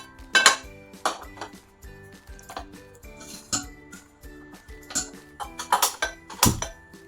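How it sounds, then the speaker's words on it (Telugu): A metal spatula clinks and scrapes against a pan while tamarind, red chillies, garlic, curry leaves, cumin and fenugreek dry roast without oil, in irregular close taps over soft background music. "ఇవన్నీ డ్రై రోస్ట్ చేసుకుందామండి"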